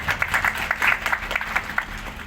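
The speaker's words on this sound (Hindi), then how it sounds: "चलिए जोरदार तालियां हो जाए।" Brief applause from the crowd at a labour union's foundation day event, a short run of irregular claps at moderate volume, somewhat distant in a hall.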